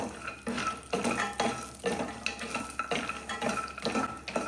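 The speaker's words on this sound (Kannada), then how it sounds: "ಬಾದಾಮಿ ಗೋಡಂಬಿ ಎರಡೂ ಒಟ್ಟಿಗೆ ಫ್ರೈ ಮಾಡ್ಕೊಬಿಡೋಣ" Almonds and cashews stirred in ghee in a pan for dry fruits laddu, giving close, repeated metallic scraping and clinking of the spoon against the pan with a faint sizzle underneath, no voices.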